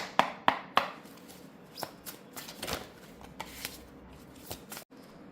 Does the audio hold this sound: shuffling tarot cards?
yes